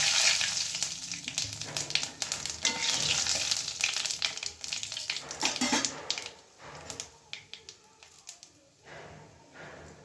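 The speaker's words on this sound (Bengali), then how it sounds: "ফোড়নে দিয়ে দিলাম জিরে আর তেজপাতা।" Cumin seeds and bay leaf sizzling and crackling in hot oil for a fish curry, a loud continuous fry that thins into scattered pops and stirring clicks toward the end, with no talk.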